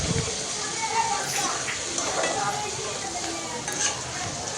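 Shrimp and onion fry lightly in a pan while being stirred. There is a soft continuous sizzle with occasional utensil scrapes and clinks, heard fairly close.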